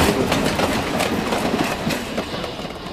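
A train running on rails, a model HO-scale railway, rolls steadily with a continuous clickety-clack of wheels over track joints throughout, fairly loud and close, with no talking.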